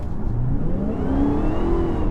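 A 2020 Dodge Charger SRT Hellcat Widebody under full throttle, its engine note climbing steadily in pitch as the car accelerates hard, loud and close throughout with no talk over it.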